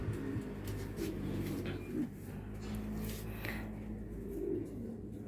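Soft, low pigeon coos repeat a few times at close range over a faint background hum, with light rustling in between.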